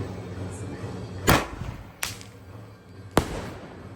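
Diwali sky shot fireworks going off outdoors: three sharp cracking whooshes spaced about a second apart over a steady background hiss, fairly distant.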